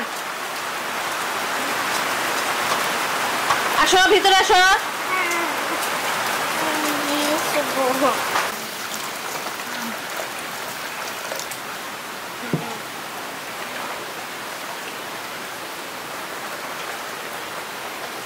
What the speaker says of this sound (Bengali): এই বৃষ্টিতে ভেজে মানুষ, এই বৃষ্টিতে গায়ে তো ভিজবে না।